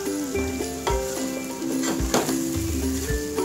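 Medium potato cut into large chunks fries in a pan for mixed vegetable rice, a steady sizzle broken by several scraping stirs of a spoon against the metal.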